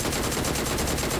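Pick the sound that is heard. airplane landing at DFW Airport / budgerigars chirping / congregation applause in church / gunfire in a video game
gunfire in a video game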